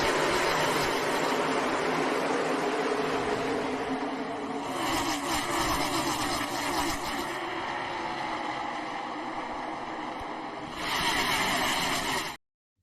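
Race cars roar off the start of the Daytona 500 stock car race, a loud, continuous wash of engines and crowd noise with surges as the field passes, sustained until an abrupt cutoff.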